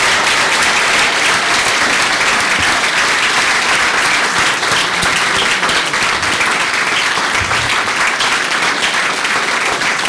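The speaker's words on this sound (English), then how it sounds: "let's give the Jandon Scholars all one big round of applause for all of you" Sustained, loud applause from an audience honoring the 2012 Jandon Scholars at a Westchester legislators' ceremony, dense steady clapping filling the whole stretch without a break.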